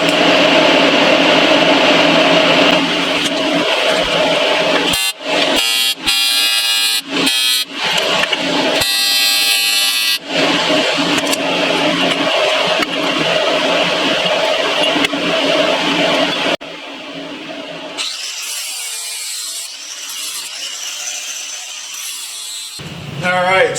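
An aluminum motorcycle frame for a GS1100 bobber is tack welded, with loud, harsh buzzing bursts that start and stop in short irregular tacks over steady shop noise, then a quieter stretch.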